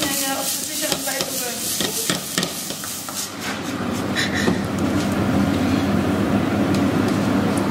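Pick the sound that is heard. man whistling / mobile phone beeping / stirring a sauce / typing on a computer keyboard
stirring a sauce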